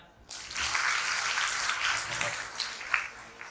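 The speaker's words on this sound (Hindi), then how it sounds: "सभा के लिए जोरदार तालियां।" An assembly at a Parichay Shivir camp in Valukad, Gujarat breaks into sustained applause after a brief quiet start, a broad, even patter that holds for several seconds.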